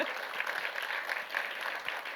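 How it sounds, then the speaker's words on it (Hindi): Applause and loud clapping from a crowd fill a trailer launch event, a dense continuous patter heard fairly near for the full stretch. "प्रोड्यूसर ने जोरदार ताली मार दी इसी बात में"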